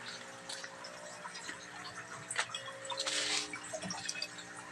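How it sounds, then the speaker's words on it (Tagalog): Water flows from a pipe fed by a 20-foot drilled well into a crayfish farming tank, a soft continuous trickle and splash with scattered drips that swells slightly toward the middle. "flowing water po ito guys."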